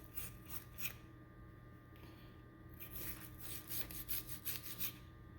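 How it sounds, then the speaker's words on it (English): Reaming rasps burrs off the grinder-cut end of a pipe during a faucet stop replacement. Quiet, repeated scraping strokes come in short bursts, thickening into a quick run of rubs toward the end, with no talking. "I'll ream it out because I use a grinder to cut the pipe, so there's those burrs on the end of it"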